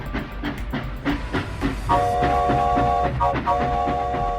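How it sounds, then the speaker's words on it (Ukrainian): A train rolls past with a rhythmic clatter of wheels, then a loud, sustained whistle sounds twice, close and clear, with no voices over it. "Та це ж потяг."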